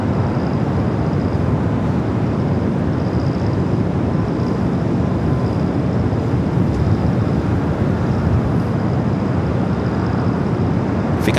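An aircraft at Los Angeles LAX airport makes a steady, distant broadband rumble that holds at an even level throughout with no clear voices.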